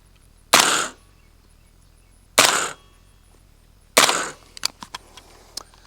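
Three sharp, loud subsonic rifle shots fired through a JMac Customs suppressor, spaced about two seconds apart, each a short muffled crack. The buffer spring and bolt cycle audibly, with a few light metallic clicks trailing the last shot.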